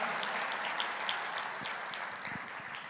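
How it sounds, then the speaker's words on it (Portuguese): A church congregation applauding during a sermon, a soft, fairly distant patter of many hands that stays even and gradually thins toward the end. "Você pode aplaudir ao Senhor por isso?"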